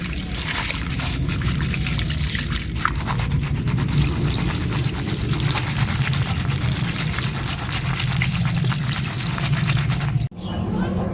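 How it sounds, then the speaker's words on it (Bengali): Freshly caught lata (snakehead) fish being washed in water for a village-style paturi, a steady trickle and splash of water running close by for about ten seconds before stopping abruptly. "মাছগুলো ধুয়ে নিয়েছি"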